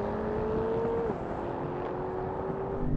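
Engines of a BMW M4, Mercedes-AMG C63 S and Lexus RC F launching together in a drag race, a steady loud roar with one rising engine tone that drops at a gear change partway through, continuous for the whole stretch.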